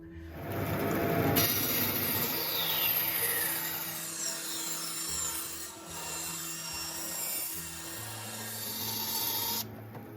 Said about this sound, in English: Brand new bandsaw. It's maiden voyage. Let's see how it goes.